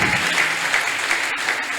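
A congregation at a prayer service breaks into steady, dense applause, a loud continuous patter of many hands clapping together without pause.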